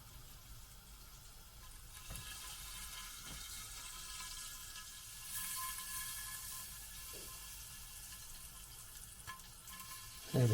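Food sizzles steadily in a pan of butter and olive oil, a soft continuous frying hiss with occasional small pops and clicks, fairly quiet and alone.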